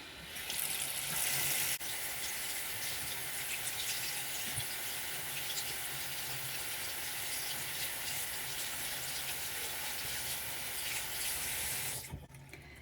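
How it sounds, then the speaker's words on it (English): Warm water runs steadily from a sink tap for about twelve seconds, a constant close hiss and splash that stops abruptly near the end, with no talking. "But I will turn on some warm water."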